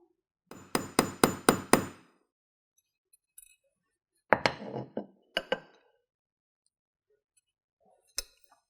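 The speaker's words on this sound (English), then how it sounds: "So we're just going to hammer that down" Hammering grommets into a fabric drawstring backpack: a quick run of five sharp hammer strikes, then a pause and a few more scattered taps and knocks, close and fairly loud with no talking.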